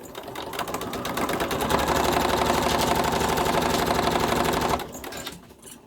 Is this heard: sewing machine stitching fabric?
yes